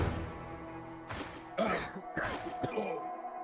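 A few rough, close coughs and throat-clearing noises from a video game character choking on trap gas, fairly quiet, in short bursts.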